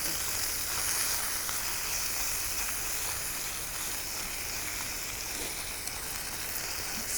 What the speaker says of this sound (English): Sizzle smells amazing.